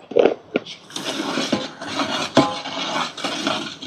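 Spoon scraping and stirring onions in a pan as turmeric goes in for a Telugu chicken curry, a close rasping rub with a few sharper taps and steady scraping throughout.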